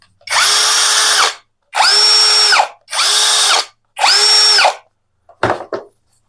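A JPT brushless cordless drill runs close and loud in four steady bursts of about a second each with short gaps between, then a brief clatter at the end, with no talking.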